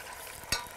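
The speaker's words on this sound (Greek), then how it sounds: "Βάζουμε λοιπόν μέσα το λαγό και περιμένουμε το λάδι μας να ζεσταθεί" Pieces of hare, including head and legs, dropped into hot oil in a pot, giving a steady quiet sizzle with one brief louder splash or stir burst midway, no talk.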